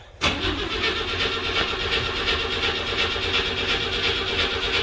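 A 1963 Rambler car engine, fuelled with 87 octane gasoline, cranks and fires, then runs steadily at a rough, loud idle close by for several seconds, with no talk over it.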